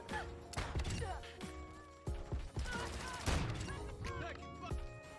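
Gunfire in Modern Warfare 2 multiplayer at a hardpoint, scattered shots and bursts in a busy firefight mixed with game announcer voice lines and other effects.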